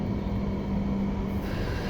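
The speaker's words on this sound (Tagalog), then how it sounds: "Yan ang LRT dito." A light rail train in Hong Kong runs past with a steady low rumble and a tonal hum, fairly close and continuous, with no voices.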